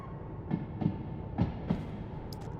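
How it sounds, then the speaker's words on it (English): Train windshield wipers in a train video game squeegee against the glass, giving four rhythmic muffled thumps at even intervals, then a brief higher squeak at the end, over a steady low cab hum. "It's actually the wipers squeegeeing against the windshield."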